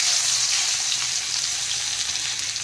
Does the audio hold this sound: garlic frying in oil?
yes